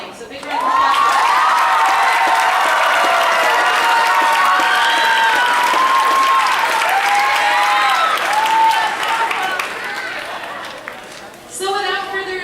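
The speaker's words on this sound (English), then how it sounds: "So big round of applause." A big round of applause at a school band concert, loud and sustained crowd clapping with cheering and children shouting over it, holding strong for about ten seconds before thinning out.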